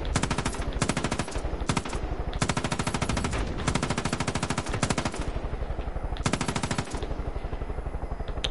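Sustained, rapid automatic gunfire from the video game Far Cry 5 rattles almost continuously for several seconds, loud and dense with only brief gaps between bursts.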